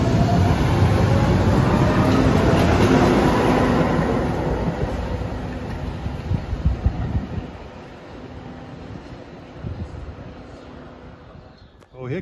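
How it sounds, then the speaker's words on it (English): Lowell commuter rail train 316 headed for North Station rumbles past close by with loud, steady rolling wheel noise and wind, gradually fading as it moves along, with a brief clank near the end. "Here comes the commuter rail from Lowell, train number 316, headed for North Station"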